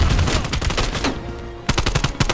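Rapid automatic fire from an AK-74U rifle in Black Ops Cold War, two loud close bursts of rattling shots separated by a brief pause.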